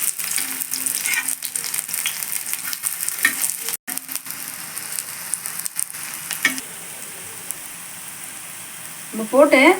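Vegetarian fish pieces fry in hot oil on a tava, a steady close sizzle that drops briefly, settles quieter, then flares with sharper crackling and spatter at the end, with no talking.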